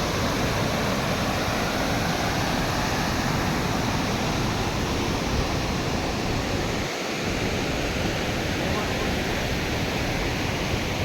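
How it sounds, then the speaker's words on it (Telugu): Ethipothala waterfalls at Macherla in Guntur pour as a dense, unbroken roar, loud and constant throughout, with a brief dip in the low rumble partway through. "ఎత్తిపోతల వాటర్ ఫాల్స్ మాచర్ల గుంటూరు"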